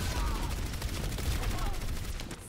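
Rapid gunfire in the Overwatch video game, with sustained bursts of shots from an unseen direction running steadily through the whole stretch, loud and dense, with no speech over it.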